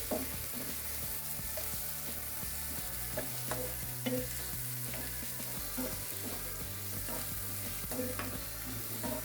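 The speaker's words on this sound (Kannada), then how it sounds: "ಉಳ್ಳಾಗಡ್ಡಿ ಹಾಕೊಂಡು ಫ್ರೈ ಮಾಡ್ಕೊರಿ." Onions fry in hot oil with mustard and cumin seeds for dhaba-style palak paneer, giving a soft, continuous sizzle with light stirring scrapes and small pops, fairly faint and without talk.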